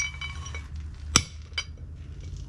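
A socket extension used as a drift is struck once to knock a bearing race out of a 1979 Ford F-150 2WD front hub, giving a single sharp metallic clink with a fainter tap after it in a quiet garage.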